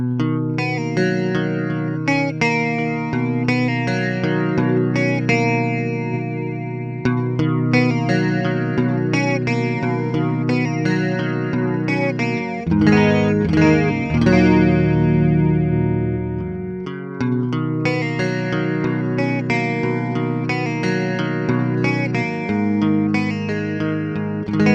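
Guitar played through a Boss Dimension C analog stereo chorus pedal, sustained chords and picked notes with a lush, shimmering chorus wash, loud and alone without talk.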